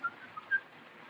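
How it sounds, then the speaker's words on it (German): A man whistles a tune in a 1931 crime thriller scene, with short, thin, faint whistled notes over a muffled background, heard alone with no talk. "Hast du den Mann gesehen, der gepfiffen hat?"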